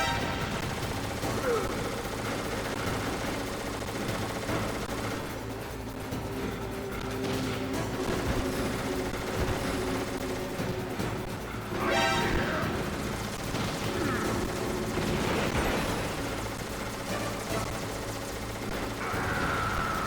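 Gunfire and explosions from the Metal Gear Solid video game during a missile-shootdown fight, with bursts of shots and booms over continuous game music and effects, and a person talking over it.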